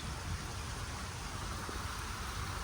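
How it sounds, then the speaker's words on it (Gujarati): Steady rain pours down onto the ground and roofs, a dense, even hiss that holds constant throughout with no talking. "આવી ગયો મિત્રો વરસાદ"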